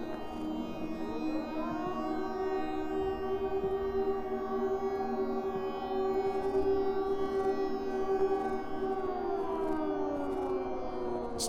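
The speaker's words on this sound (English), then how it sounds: "Let's turn off the siren, I guess." Steady wailing civil-defense siren from the video game The Blessing of Airon, rising at the start and holding a sustained multi-tone drone for several seconds, loud and alone with no talk.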